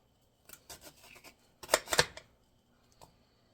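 Celery is chopped on a board: a few light, scattered cuts followed by a louder cluster of crisp crunching chops near the middle, then one faint tap, all close and with no talk.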